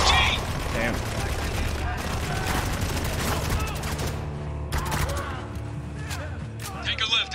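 Heavy machine gun fire crackles in rapid bursts through a Spec Ops: The Line firefight, dense and loud, mixed with other gunfire and impacts while voices shout over the action.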